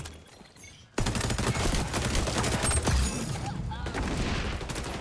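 Sustained automatic gunfire in the video game XDefiant erupts suddenly after a quieter moment and keeps hammering loud and dense for several seconds, with a voice calling out over it.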